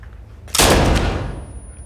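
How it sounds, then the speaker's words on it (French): A single sharp, close rifle shot from a grandfather's carbine at a shooting session, with a brief crack followed by a fading boom that trails off over about a second. "On doit presque être surpris par le départ du coup de feu."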